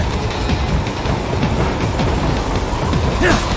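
A train in Metal Gear Rising Revengeance rushes along with a loud, constant rumble and rhythmic clatter. A brief squeal rises near the end, and no one speaks.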